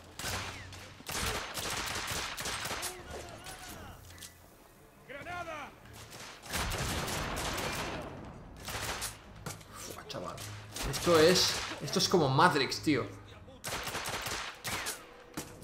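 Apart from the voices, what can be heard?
gunfire in video game The Order 1886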